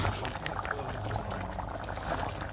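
Mutton curry with ash gourd simmering on a stove, giving a continuous dense bubbling and burbling that stays fairly even throughout, with a voice in the background at times.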